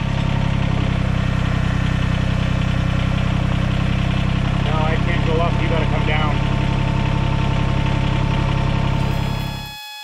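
A Kubota BX compact tractor engine idles close by with a loud, steady, low rumbling throb and a faint knocking texture, then cuts off abruptly near the end.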